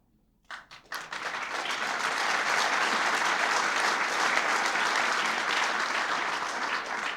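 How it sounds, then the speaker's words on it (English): Audience applause after President Clinton's 1997 remarks on an electronic commerce initiative. After a brief quiet moment, a few claps build quickly into steady, dense, sustained clapping from a large crowd that fills the room and continues to the end. "Esther Dyson would be the one to start the applause on that."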